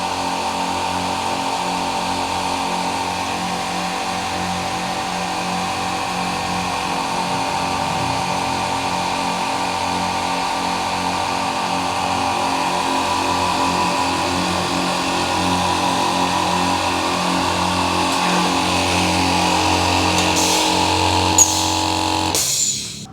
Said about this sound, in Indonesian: jadi tadi pada saat mengisi ya, jadi 3 engine ini hidup ya